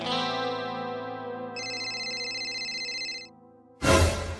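An electronic phone ringtone plays steadily with layered tones, keeps going without pause, then breaks off into a burst of noise.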